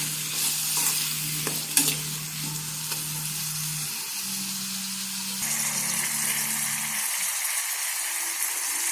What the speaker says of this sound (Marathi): टोमॅटोसोबत कढीपत्तासुद्धा टाकायचे आणि व्यवस्थितपणे मिक्स करून घ्यायचं आहे